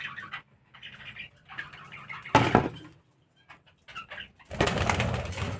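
Budgerigars in a breeding colony with a parent sitting on eggs in the nest boxes: close, intermittent bursts of chirping chatter broken by short quiet gaps, plus a louder rush of wing flapping partway through and again near the end.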